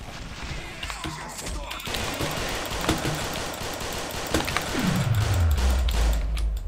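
Rapid automatic gunfire in Counter-Strike 1.6 during a zombie riot match on zr_contingency, loud sustained bursts of shots with a descending whoosh near the end.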